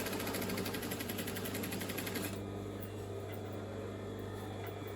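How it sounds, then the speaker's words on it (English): A sewing machine runs steadily while stitching a side pocket seam into a cotton dress, its rapid mechanical chatter loud and close for a couple of seconds before settling into a quieter hum. "I'm going to do a good back tack there, and then I'm just going to, where the overlocking is, I'm running that on the inside of that foot as my guideline"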